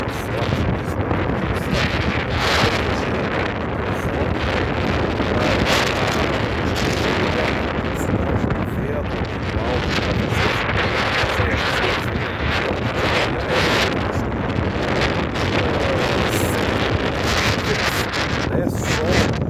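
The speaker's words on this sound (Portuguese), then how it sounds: "o vento realmente forte demais aqui em Garopaba" Strong coastal wind at Garopaba, Brazil, buffets the microphone in a loud, continuous roar with gusty surges for the whole stretch, with no talking.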